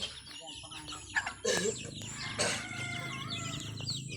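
Chickens and chicks cluck and cheep while being fed at a rural home, a steady busy chorus of birds close by, with a few louder calls and a person talking over it.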